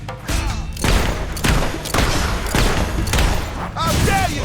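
Gunfire in the video game Fable 3, bursts of loud shots repeating in roughly half-second clusters, close and harsh, with a voice shouting near the end.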